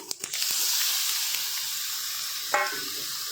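Sesame seeds, fennel seeds and ground green peas hit hot oil in a pan while making green pea khasta kachori, giving a steady broadband sizzle with a few sharp clicks at the start and a brief spoon knock near the end.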